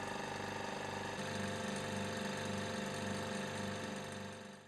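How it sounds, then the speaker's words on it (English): A laboratory vacuum pump drying a white solid drones steadily with a rapid rhythmic pulsing, its tone shifting slightly after the first second, then fading at the end. "The solid takes a lot of drying on the pump."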